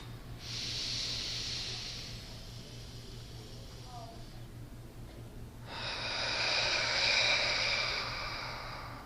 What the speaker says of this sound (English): So, let's breathe it up.